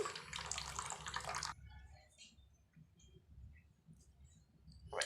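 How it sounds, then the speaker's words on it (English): Water rushes loudly for about a second and a half from a small motor pump feeding a homemade fountain, then cuts off, leaving faint ticks and clicks before a brief burst of flow returns at the end. "now we should check the water pump whether it is working or not"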